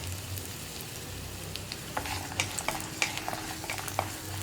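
Ginger and dried red chilies sauté in a pan, a steady low sizzle broken by sharp spatula clicks and scrapes that grow more frequent toward the end, close up and without speech.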